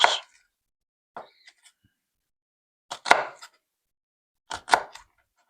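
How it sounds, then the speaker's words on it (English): Knife chopping celery into very small pieces for a classic tuna salad, heard as three separate bursts of quick, close cutting taps spaced a second or more apart with quiet gaps between. "So you can kind of see how small that we're cutting the celery"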